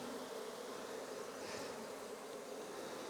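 Honeybees buzz around an open hive frame in a steady, dense hum that stays unbroken for the whole stretch, with no voices over it.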